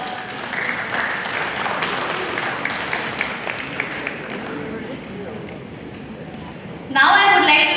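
A hall audience at an architects and builders' gathering in Dimapur claps for an award recipient on stage, continuous medium-loud applause filling the room, ending in a brief louder burst of noise near the close.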